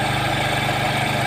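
A motorcycle engine idles steadily up close as the idle screw is turned, a dense, even throbbing with rapid regular pulses and no break.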